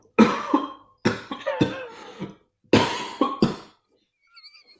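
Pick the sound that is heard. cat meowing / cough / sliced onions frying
cough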